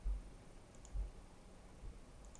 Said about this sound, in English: I'm just gonna start clicking around randomly.